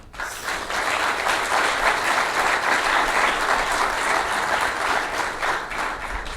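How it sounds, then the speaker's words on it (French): Audience applause following a speech at a graduation ceremony closing the 8th and opening the 9th promotion, a dense sustained crowd clapping that swells in and holds steady, fairly loud, with no talk over it. "Merci d'applaudir Patrice Emery Lumumba"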